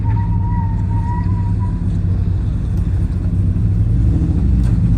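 A rebuilt car engine with a misfire runs steadily and close by, producing a loud, deep, constant rumble with a faint whine early on.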